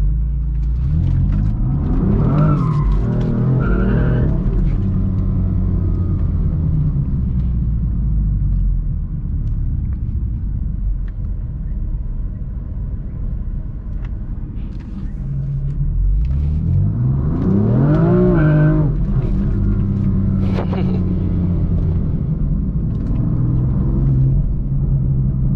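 BMW M4 sliding through turns on city streets, a loud steady engine rumble that swells twice into revving pulls, once early and again around the middle, with no talk.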